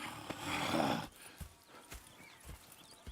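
Horses in Red Dead Redemption 2 snort and shift, with a burst of breathy whinnying up front followed by scattered hoof clops and thumps, close by.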